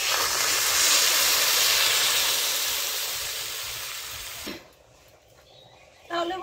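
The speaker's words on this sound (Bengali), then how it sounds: "এখন আমি পরিমাণ মতো জল দিয়ে দিচ্ছি" Water poured into a hot pan of fried potatoes and spices hisses into a loud, steady sizzle for about four seconds, then drops away sharply to a quiet simmer, with a short clatter near the end.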